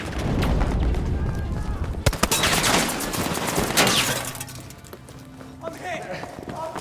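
A STEN submachine gun fires in Battlefield V, with sharp bursts at close range cutting through dense battlefield noise, footsteps and distant explosions, while voices shout over the action.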